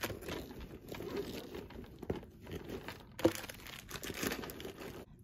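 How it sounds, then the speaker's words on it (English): Faint crinkling and rustling of a plastic-wrapped tissue pack being pushed into a bag's zipper pocket, with soft irregular crackles and a brief sharp tick partway through. "next we have some pack of tissues, of course. I'm gonna put this in the zipper part."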